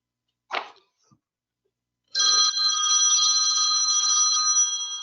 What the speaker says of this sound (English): Get that phone, please, whoever it is.